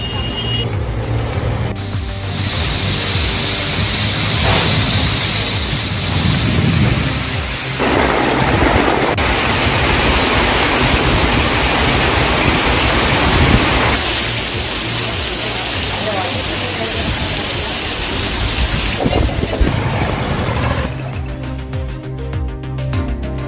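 Heavy rain pours down in a town, rainwater rushing along the road in a dense, loud, continuous hiss with occasional traffic swells and no clear talk.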